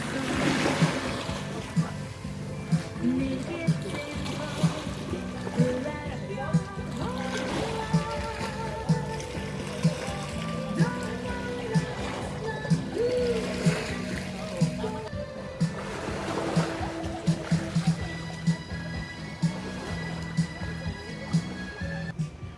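A large body of water churns and splashes steadily around an island in the Philippines, a continuous near rush with occasional sharper splashes, while people talk over it.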